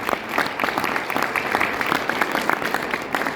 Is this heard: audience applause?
yes